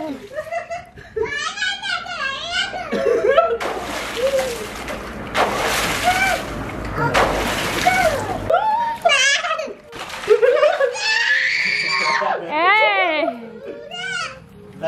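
Water splashes in bursts in a pool or outdoor water area, loud noisy surges under lively chatter and excited children's voices and laughter.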